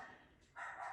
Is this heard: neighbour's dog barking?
yes